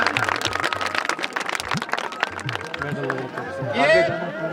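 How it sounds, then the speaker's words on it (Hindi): A crowd at a horse riding competition in Gundna, Kishtwar claps for the winner, short scattered applause under loud speech over a PA system, with babble and a rising whistle-like tone near the end. "तालियां इनके लिए तालियां।"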